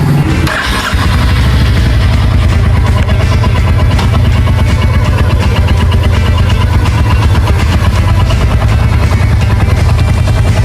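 A Royal Enfield Hunter 350 motorcycle runs on a bypass ride with a loud, steady engine drone close by, blended with constant wind rush and no break.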